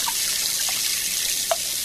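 Cold running water for bathing pours steadily from a tap or shower, a continuous hiss heard alone with a few faint drips or splashes.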